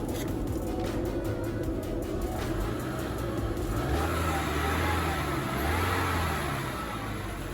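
A 2011 Toyota Camry engine revs under throttle after an alternator replacement, a steady mid-range drone that rises and falls slightly, up close and continuous throughout.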